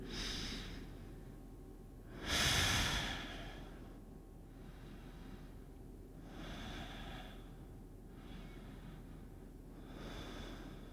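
Slow, deep breaths during a yoga class, a strong breath near the start followed by softer, steady, rhythmic inhales and exhales, close and quiet.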